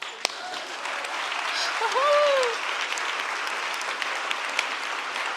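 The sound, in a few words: audience applause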